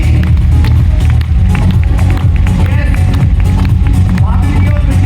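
A large audience at an anniversary event in Delhi breaks into loud, dense applause to welcome the president, a continuous roar of clapping and crowd noise throughout.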